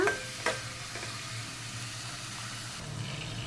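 Tomatoes fry in a pan with a soft, steady sizzle, opening with a couple of clinks and scrapes as they are mixed, faint and close with no speech.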